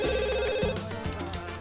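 A telephone in The Sims 2 rings loudly with a steady electronic warble, filling the short moment on its own.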